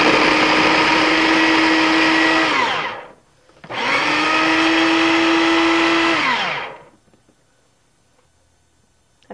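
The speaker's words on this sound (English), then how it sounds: "I'm just going to cut it up into slightly smaller chunks just to get it into the food processor. And then I just want to grind it up." A food processor grinds a chunk of cheese in two loud sustained bursts, each running about three seconds and ending in a falling whine, separated by a short pause, close up in a home kitchen.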